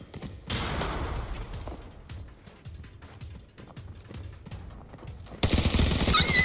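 Automatic gunfire in the shooter game Arena Breakout, with quick rattling bursts of shots at a moderate distance and a louder, sustained volley near the end.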